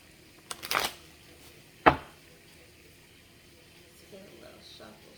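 Tarot or oracle cards shuffled for a love reading: a brisk riffle of crisp card flutters, then one sharp snap and a few faint later rustles, close and otherwise quiet.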